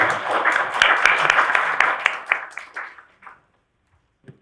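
An audience at a Korean church seminar on state violence applauds to welcome a pastor presenter: a dense burst of clapping that thins into scattered claps and fades to silence after about three seconds.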